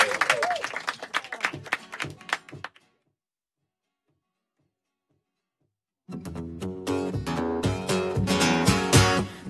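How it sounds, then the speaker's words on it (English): Applause from an evening live music session audience, mixed with a voice, lasts about three seconds and then stops dead. After a few seconds of silence, music starts up. "Big round of applause, please."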